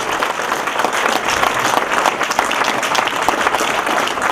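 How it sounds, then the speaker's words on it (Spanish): Audience applause at a book presentation in Spanish, honoring an injured non-commissioned officer; dense, steady clapping from a crowd fills the whole stretch at an even, loud level. "Vamos a darle un aplauso a Chorizá Zaguirre."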